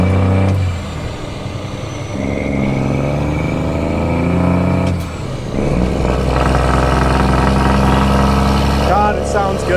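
A loaded pickup truck towing a trailer of beans runs steadily at a deep, loud engine drone with a brief dip partway through, while someone talks over it.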